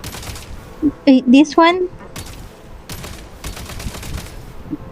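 Rapid gunfire rattles in a Genshin Impact game scene, sharp bursts scattered through the clip while a voice speaks over it and a short melodic tone briefly rises early on.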